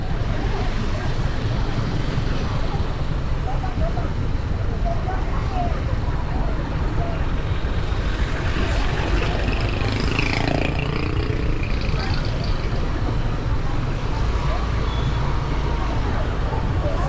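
Steady dense road noise from a traffic jam in Jombang, a continuous low rumble of idling and crawling vehicles with a passing engine swell midway, with voices talking over it throughout.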